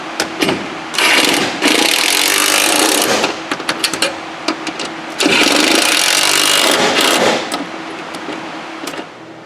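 A power tool tightens a fitting on a Ford F350 Power Stroke, with two loud, close, sustained whirring bursts of several seconds each, separated by a brief lull and broken by rapid rattling pulses.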